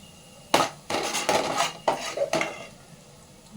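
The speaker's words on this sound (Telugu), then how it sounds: "తర్వాత నెక్స్ట్ క్యారెట్ వేయించుకోవాలి." Grated carrot is fried and stirred in a pan for egg noodles, a series of close scraping and clattering strokes of a utensil against the pan over a faint sizzle, each lasting about half a second.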